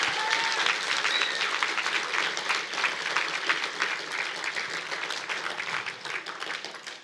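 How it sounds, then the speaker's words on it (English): Sustained applause fills a swim team's end-of-season awards ceremony, a dense steady clapping from a crowd that stays loud throughout and tapers only slightly near the end. "Let's give them a round of applause."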